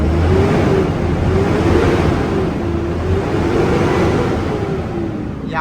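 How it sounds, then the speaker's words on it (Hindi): Ashok Leyland six-cylinder engine on a 13.5 m AC sleeper bus, recorded close to the silencer: a loud, steady, deep idle with a smooth tonal hum holding throughout, nothing else over it. "काफ़ी लोगों को लीलैंड का जो इंजन साउंड है वो सुनने में काफ़ी ज़्यादा मधुर लगता है"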